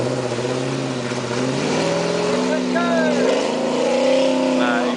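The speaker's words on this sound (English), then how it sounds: "Jamie, you might need to pull a higher gear, mate." An off-road vehicle stuck in mud revs hard and steadily, its engine note rising and falling through strained acceleration, with people talking faintly over the continuous drone.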